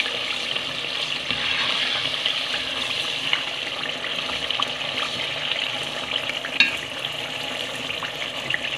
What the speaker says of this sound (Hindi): बस अब इसको मसाले को भून लेते हैं